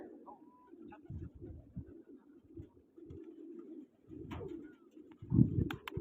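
Pigeons coo softly in repeated low, rounded calls, with occasional faint chirps and brief rustling between them; no clear speech is heard.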